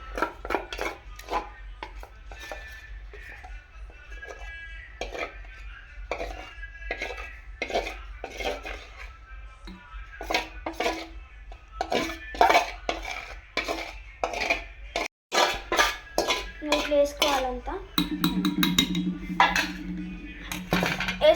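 Metal vessel and stand being handled for baking a cake at home, giving repeated clinks and clatters of pots and utensils, close and fairly loud, with a low hum underneath.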